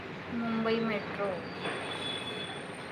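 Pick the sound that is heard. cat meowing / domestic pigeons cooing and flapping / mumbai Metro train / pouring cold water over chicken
mumbai Metro train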